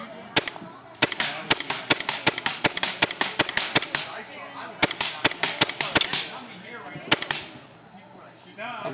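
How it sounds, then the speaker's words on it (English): Rapid series of sharp, loud shots from an AGD Tac-One air gun fired at a target, with irregular bursts of pops separated by brief pauses and a mechanical rattle between shots. "But right now I'm going to shoot this target."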